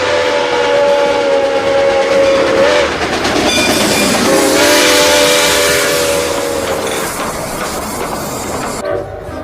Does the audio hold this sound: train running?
yes